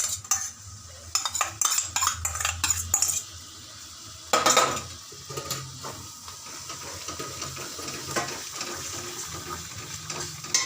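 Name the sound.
stirring and frying spice paste with yogurt in a pan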